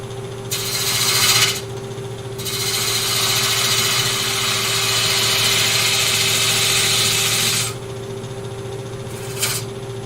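A woodturning tool cuts a wooden vase spinning on a lathe, giving a steady loud rasping scrape that runs for several seconds between brief pauses, over a constant motor hum.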